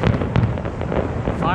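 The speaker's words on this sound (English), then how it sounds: "Fireworks at the Alberta Legislature." New Year's Eve fireworks at the Alberta Legislature in Edmonton crackle and thump in a dense, continuous volley, heard outdoors from a distance with people talking nearby.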